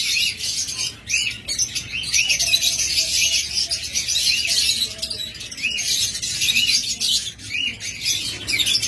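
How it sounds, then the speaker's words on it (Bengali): A pair of white pied cockatiels keeps up steady, busy chirping and tweeting close by, bright repeated calls running through the whole stretch with brief gaps, no one speaking. "হোয়াইট পিস ককাটেল জোড়া।"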